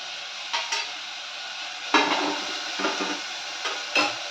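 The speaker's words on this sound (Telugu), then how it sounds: "క్యారెట్ టమాటో బఠానీ అలాగే కరివేపాకు అయితే వేసుకుంటున్నాను" Carrots, tomatoes, peas and curry leaves fry in a pan with a soft, steady sizzle, broken by several sharp clinks and scrapes of a utensil stirring against the metal, quiet and close, without talking.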